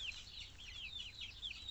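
Laying hens in a backyard flock give soft, repeated clucks and chirpy calls, faint and fairly close, in a quick irregular string with no talking.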